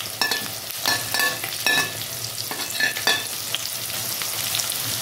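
Okra pakoras fry in oil with a loud, close bubbling sizzle. Irregular scraping and stirring clatters land every second or so over the continuous hiss, and no voices are heard.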